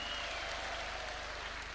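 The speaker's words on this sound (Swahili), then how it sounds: "Let's put our hands together" A crowd of teachers at a State House meeting applauds to welcome a speaker, a dense, steady wash of clapping that fills the whole moment.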